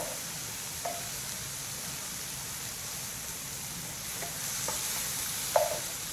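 Shrimp for yakamein soup cook in a pot with a steady soft sizzle and bubbling hiss, broken by a few faint utensil clinks and stirring sounds.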